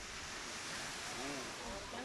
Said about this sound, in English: listening to the waves crashing is like being in heaven